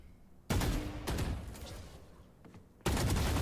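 Valorant gunfire sounds as two loud, abrupt bursts, each decaying into a rumbling echo, close and heavy with no voices over them.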